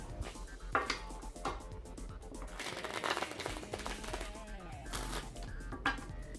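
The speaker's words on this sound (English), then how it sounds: "once I've shuffled the cards" Soft papery riffling and shuffling of playing cards, close by, with intermittent sharper flicks and faint background hum throughout.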